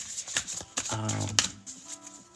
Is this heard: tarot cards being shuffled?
yes